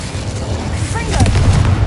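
Incendio fire spell cast in the Hogwarts Legacy video game, a short loud whooshing burst of flame that swells and rumbles over its final second, with booming low end under it.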